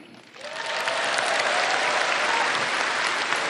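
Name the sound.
crowd applause at a party anniversary rally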